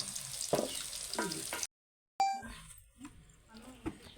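Green chillies fry in a pan for gongura chutney, giving a close, crackling sizzle that cuts out abruptly for a moment and then resumes more sparsely.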